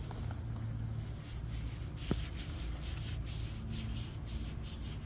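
A hand scratching and rubbing a pet tortoise's shell, a close, continuous dry scraping and rubbing sound with one small sharp tick, no talking.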